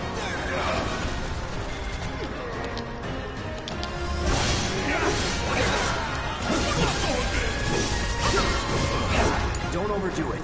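Rooms get wrecked in Final Fantasy VII Remake as crashes, whacks and swishes pile up over ongoing game sound. The hits are loud and come thick and irregular, with brief shattering, and the stretch grows busier toward the end.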